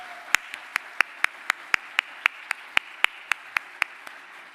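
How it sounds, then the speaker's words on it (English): At a graduation ceremony, one person claps in a steady, evenly spaced rhythm, about sixteen sharp claps over a quiet room. No crowd applause or talking is heard. "our new graduates, to perhaps give a round of applause to those who have supported you"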